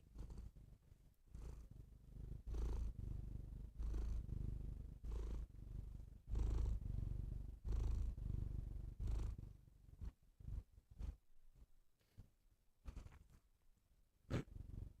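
A house cat purrs close to the microphone in a steady rhythmic rumble of breaths, loud and continuous for most of the stretch, then turning broken and patchy with a few sharp handling noises near the end.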